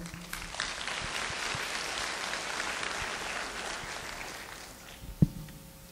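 Applause from the audience at a summer workshop gathering in Cheonan, a steady broadband wash of clapping holding evenly for the full stretch at moderate distance, with a single sharp knock near the end.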